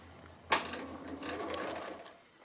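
A sewing machine stitching an appliqué runs for a short, fairly loud burst of rapid, steady stitching, then slows and trails off, with no talk.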